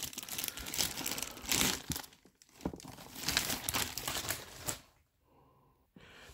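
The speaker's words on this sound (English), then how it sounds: "tear it open with my hand" Hands tear open the packaging of a Beyblade X BX-25 gear case, close up: bursts of crinkling plastic and ripping come in uneven pulls, then the sound stops and a quiet pause follows.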